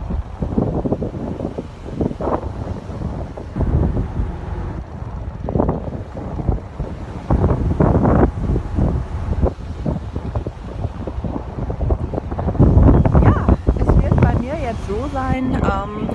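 Strong sea wind buffets the microphone on a ferry crossing to Dublin, a steady roaring rush with engine and water noise beneath, and people talk over it.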